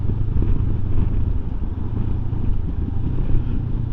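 A 2024 Benelli 702 Low Seat motorcycle rides along a country road, its engine a steady low drone with wind rumble, close and continuous, with no talk.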